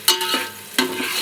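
Sliced onions and green chillies being stirred in a hot pan, giving two quick scraping spatula strokes over a continuous close sizzle, with no talking.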